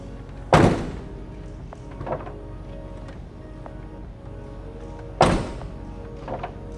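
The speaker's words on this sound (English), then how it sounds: "We're going to be closing the door and pulling this way." Two solid thunks of a Ford Mustang S550 door being shut, about five seconds apart, each followed by a softer click or clunk as the door release is pulled, in a quiet garage with no talking.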